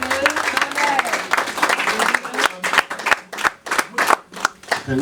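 A church congregation claps, a voice calling out at first, then the claps fall into a loud, rhythmic beat.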